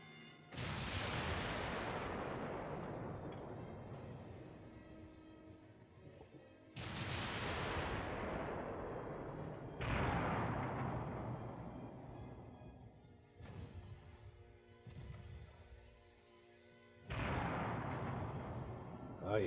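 Secondary guns of a warship in Ultimate Admiral Dreadnoughts firing in a naval battle: five heavy booming salvos, each followed by a long rolling rumble that fades before the next blast.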